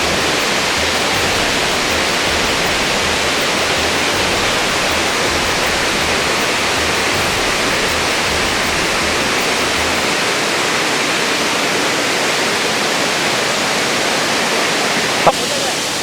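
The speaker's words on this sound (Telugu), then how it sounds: "చూశారు కదా ఈ దారపల్లి వాటర్ ఫాల్స్ ఏ విధంగా ఉందో." The Dharapalli waterfalls, a tribal-area cascade among hills, give a loud, constant roar of rushing water, heard up close and unbroken throughout.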